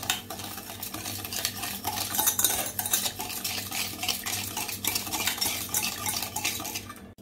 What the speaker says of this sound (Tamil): இதை வந்து ஒரு விஸ்க் வச்சுட்டு இப்படியே கலந்து விடுங்க